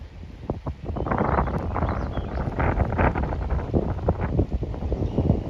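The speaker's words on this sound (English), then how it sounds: "Sorry for the wind." Wind buffets the microphone on a lake beach, a loud continuous rumbling roar with gusty bursts and rustling throughout, no voices.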